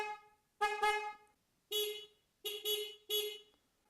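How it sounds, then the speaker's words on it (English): Loud aftermarket horn fitted to a Honda motorcycle, recorded through a motorcycle helmet, sounding five close blasts in bursts: one long honk, then a short one and a quick run of three. "horn on my wife's bike temporarily, just so you can hear the difference in sound between the stock Honda and the 125"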